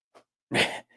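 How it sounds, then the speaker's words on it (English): A single sharp, noisy burst close up, like a sneeze, preceded by a faint short intake of breath. "Cannot sneeze quiet."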